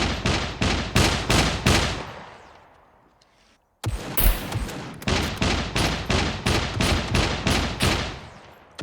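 Rapid gunfire rings out in the survival video game SCUM: regular bursts of evenly spaced loud shots, a fading pause, then a sharp blast and another long string of rhythmic shots.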